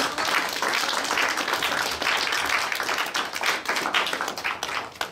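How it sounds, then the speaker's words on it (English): A room audience gives a panel on housing a round of applause, dense sustained clapping close and fairly loud from start to finish with no talk over it. "Can we get one more round of applause for our panel?"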